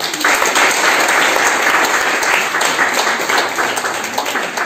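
An audience at a church seminar breaks into steady, dense applause, close and loud throughout, with a few voices faintly mixed in.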